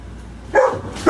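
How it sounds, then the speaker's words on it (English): A big dog gives a sharp, close bark. A second bark begins right at the end. Both are fairly loud, with no talking around them. "Yep, my doggy."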